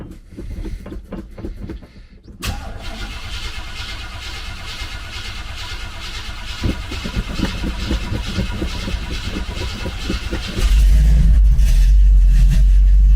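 2014 Cadillac CTS 2.0T engine cranking, catching and settling into a steady idle, a close, loud rhythmic churn that builds into a heavier roar near the end, with no talking.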